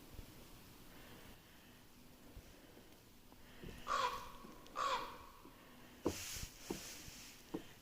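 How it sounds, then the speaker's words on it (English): A crow-like bird caws outdoors on a rainforest trail, with a couple of harsh calls standing out over faint ambient background, followed by a few quieter calls and rustles. "Hey, bird."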